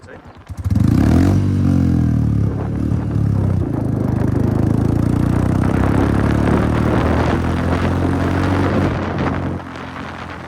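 A Royal Enfield Bullet motorcycle fitted with an Akrapovič exhaust runs loud and close, holding a deep, steady throbbing note for about nine seconds before dropping off at the end, with people talking over it.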